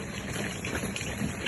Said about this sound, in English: Sorry about the noise, that's just my trolley.